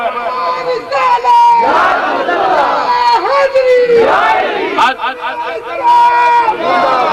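A large crowd of young men at a religious gathering chants slogans in loud unison, rising and falling in repeated surging calls that echo across an open space.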